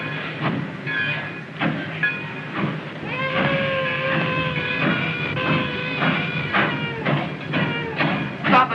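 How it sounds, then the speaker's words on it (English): Train running on rails in an early 1930s film scene, with a steady rolling rumble and repeated rhythmic clanks throughout, moderately loud and continuous, with no voices over it. "Stop the train immediately."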